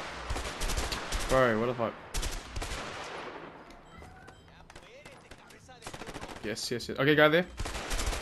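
Gunfire in the A Way Out video game comes as rapid bursts of shots, loud at the start and again near the end, mixed with players talking excitedly.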